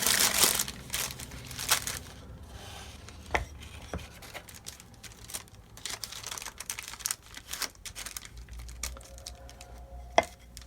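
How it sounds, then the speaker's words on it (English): Wax paper crinkling and rustling as it is wrapped around two pieces of a 1965 VOX Apollo IV bass, irregular close crackles and handling bumps, no talking. "got the wax paper wrapped around there, the two pieces."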